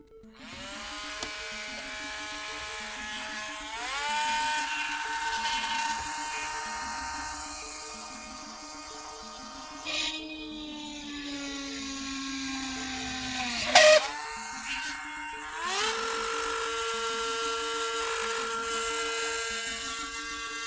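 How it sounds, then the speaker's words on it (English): A Dremel rotary tool whines loudly and steadily at a soldering workstation, its high pitch shifting as the speed changes, with brief sharper bursts where it bites into material. "So we get the Dremel out."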